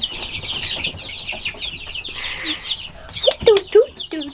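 Pullets and meat chickens give soft, scattered clucks and chirps close by, with a few louder calls near the end and faint background noise.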